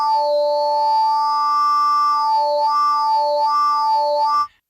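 A Groove Synthesis 3rd Wave synthesizer with wavetable smoothing switched on holds a loud, sustained, buzzy tone whose upper partials slowly sweep and wobble, then cuts off abruptly at the end.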